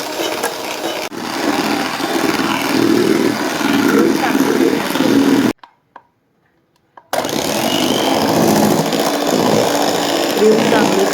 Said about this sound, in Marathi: ही क्रीम घेतली आहे 1 वाटी, ग्राइंडरने फेटून घ्यायचं.